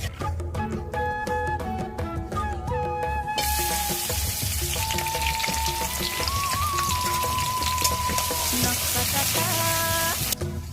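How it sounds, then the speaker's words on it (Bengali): Fried dried fish being rinsed with hot water, heard as a steady broadband splashing and pouring wash that starts a few seconds in and runs on under melodic background music. "এখন গরম পানি দিয়ে ভালো করে শুটকি মাছগুলো ধুয়ে পরিষ্কার করে নিই।"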